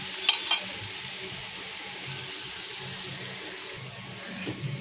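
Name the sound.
masala being sautéed in a pan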